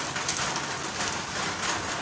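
Steady outdoor rain falling on surfaces, a dense close hiss with no talk, heard during an open-air cooking session.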